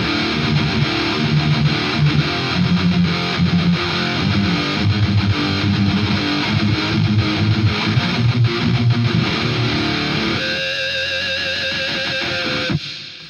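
Electric guitar played through a Fat Blob amp simulator with heavy reverb, a loud distorted wash of chords and notes that rings on, then thins to a sparser sustained tone near the end.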